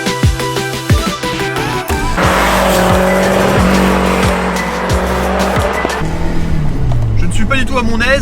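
A Renault 5 Turbo engine revving up to 4000 rpm, loud and close, with a rising roar and turbo sound. A person speaks over the engine noise.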